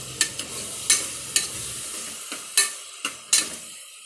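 Ginger-garlic-onion paste being sautéed and stirred in a pan for chicken biryani, giving a soft continuous sizzle broken by several sharp spoon scrapes and clinks.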